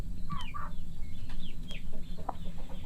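Chickens cluck and chatter at a backyard chicken farm, with several short, close calls over a constant low farmyard rumble.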